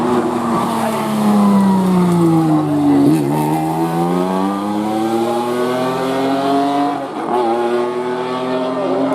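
A Lucchini race car, number 90 driven by Christian Bouvier at the Turckheim–3 Épis hill climb, revs hard through a loud sustained engine note that climbs through the gears with brief dips at shifts.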